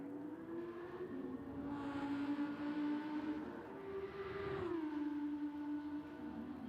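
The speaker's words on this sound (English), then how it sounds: "Don't you just love the sound of car engines going by?" Race car engines in Gran Turismo 7 drone and whir past at a distance, their pitch rising and bending as they go by, fairly faint with a steady hum underneath.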